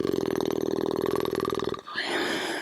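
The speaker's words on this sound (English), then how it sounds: "allowing the breath go through the lips so they, I don't know the name, it's like a, like a weird farting" Breath exhaled through loosely fluttering lips during a yoga flow, a buzzy rippling raspberry sound close to the microphone that cuts off abruptly into quiet breathy air.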